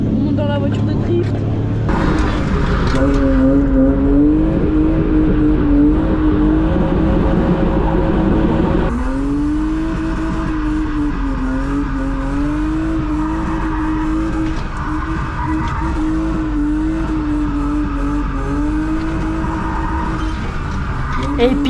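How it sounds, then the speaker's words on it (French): A drift car revs hard and slides through a street drifting show, engine note rising and falling in repeated pulls with tire noise, loud and close, while people talk over it inside the car. "On monte dans la voiture de drift."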